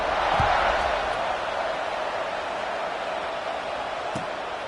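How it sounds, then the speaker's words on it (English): A college football stadium crowd buzzes with a steady, loud, dense roar that holds evenly throughout with no distinct voices. "this crowd is buzzing after that last score"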